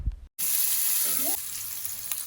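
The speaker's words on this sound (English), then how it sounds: "I'll add groundnut oil into the pan. Once the oil is heated, I'll go in with my onions." Onions hit hot groundnut oil in a pan and sizzle loudly, a sudden steady hiss of frying that starts after a brief silence and carries on close up with faint stirring.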